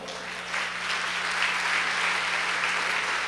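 Sustained applause from a church congregation during a Portuguese-language sermon. Many hands clap together in a dense, steady wash that swells a little after the first half second and then holds evenly, with no voices over it.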